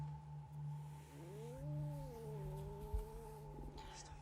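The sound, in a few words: cat in horror movie Sleepwalkers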